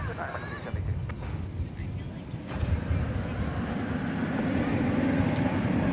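An airliner departing for San Francisco rolls down the runway at DFW Airport at night, a distant broad engine roar that slowly swells in loudness.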